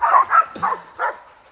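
Dutch Shepherd dogs bark in four quick, loud, close barks spaced about a quarter second apart, outdoors on a hill.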